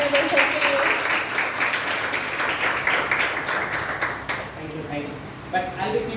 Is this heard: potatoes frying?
no